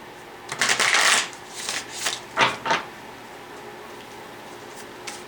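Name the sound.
shuffling tarot cards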